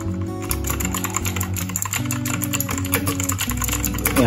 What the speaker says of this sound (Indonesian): Ini ya, coba kita ketik.